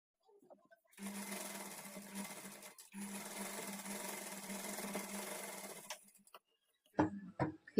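Sewing machine stitching blouse fabric with a quarter-inch seam margin, running in two steady buzzing bursts of about two and five seconds separated by a short pause, then a few louder handling knocks near the end; no talk.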